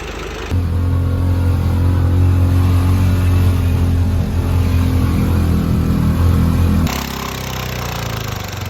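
An engine by a fishing hut runs loud and steady with a low droning rumble, settling to a lower idle near the end.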